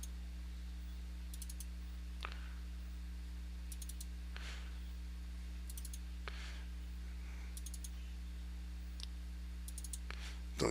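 Sparse mouse clicks on targets in a shooter video game, single soft clicks spaced a couple of seconds apart with short electronic blips between them, all over a low constant hum.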